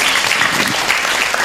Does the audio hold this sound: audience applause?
yes